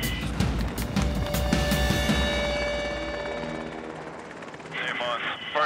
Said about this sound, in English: Ready for takeoff.